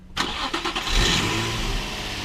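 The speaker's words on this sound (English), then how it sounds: "So we'll go ahead and start it in neutral, and we'll let it idle for a minute." Nissan 350Z with a K&N air filter cranks and fires up in neutral, a loud close catch followed by a brief rev, then settling into a steady, rumbling idle.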